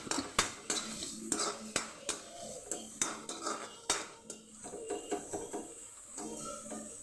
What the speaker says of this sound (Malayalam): നല്ലോണം വാട്ടിക്കൊടുക്കാം